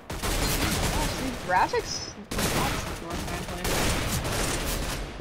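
Continuous gunfire in the video game CS:GO, dense overlapping shots forming a loud sustained barrage, with a brief pause and someone talking over it.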